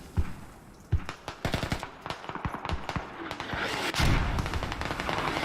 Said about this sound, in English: See, the mortars are landing around the right area